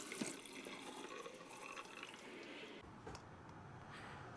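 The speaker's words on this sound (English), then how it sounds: "The first step is to thoroughly wash the grapes." Tap water runs steadily into a sink while grapes are washed beneath it, a soft continuous splashing with brief shifts in the flow.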